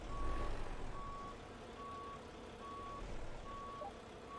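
Reversing beeps of a truck in American Truck Simulator, steady evenly spaced electronic tones repeating about once a second over a low engine rumble.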